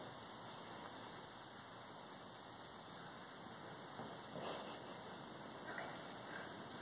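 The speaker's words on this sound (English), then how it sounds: "It's starting to rain again." Steady, faint rain falling outdoors makes a soft continuous hiss, with a slight swell of patter midway and no talking over it.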